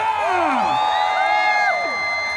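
A large crowd at a 2019 Chosun University festival concert cheers and whoops for the band, loud sustained shouting with rising and falling voices over a bright, continuous wash of applause.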